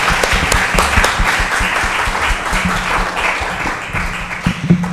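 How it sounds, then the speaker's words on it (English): A hall audience gives a round of applause to a symposium panel, steady dense clapping from many people filling the room, loud and continuous throughout with a few sharper claps near the end. "And a round of applause."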